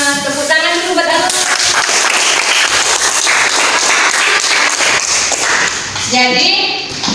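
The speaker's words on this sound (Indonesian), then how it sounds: "tepuk tangan dulu buat aku" Students in a classroom clap in a brisk burst of applause during a lesson on Kalimantan Tengah, the clapping running through the middle between stretches of a teacher's voice at the start and end.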